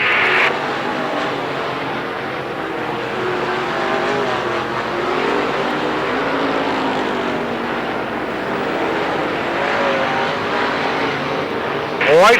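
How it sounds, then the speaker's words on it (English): Late model race cars roar around Lerneville Speedway, a dirt oval in Sarver, Pennsylvania, their engines forming a loud, continuous drone that swells as the pack passes, with an announcer talking over it. "GYSLER continues to hang on the outside of the Speedway, but Dick Barton down low has that Ford out"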